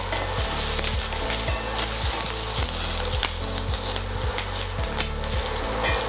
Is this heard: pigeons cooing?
no